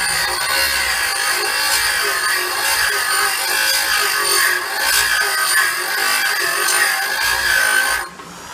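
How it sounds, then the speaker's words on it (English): Warrior sawmill blade being sharpened, a continuous harsh grinding rasp, loud and close, lasting about eight seconds before stopping abruptly. "I've got to sharpen it a little bit more till that full face is shiny"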